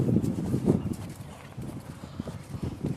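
A ridden horse walking on a course, soft rhythmic clip-clop of hooves at moderate distance, fairly quiet and steady with no talk over it.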